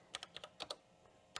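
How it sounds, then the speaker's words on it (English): Keys clack on an old computer keyboard as a DOS command is entered on a rare Bosch Rexroth PG4 80286 industrial PLC computer, about nine crisp, close keystrokes in an uneven burst with a short pause before the last. "Let's just type p1.com just to see what is the content of that bat file."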